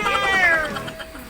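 A cat on a farm lets out a single drawn-out meow, loud and close, with a falling pitch that fades into quieter background noise.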